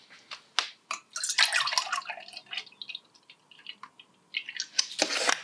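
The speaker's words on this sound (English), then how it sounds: "So I just need to pour some milk in." Milk pours into the frothing canister of a Sage Barista Touch espresso machine (Breville Barista Touch), giving close, uneven splashes and drips in short bursts with quiet gaps between them.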